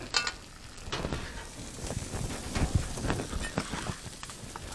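Fajita beef strips sizzling and frying in a hot cast iron pan, a steady close crackle with scattered pops and a few stirring knocks throughout.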